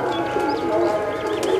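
Pigeons kept by a fancier coo softly and continuously up close, a low warbling drone with faint chirps above it.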